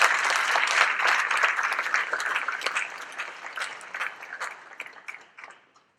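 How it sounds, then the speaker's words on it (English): A concert audience at a music festival claps together, a full, dense burst of applause that gradually thins out and fades to silence over about six seconds. "Clap your hands."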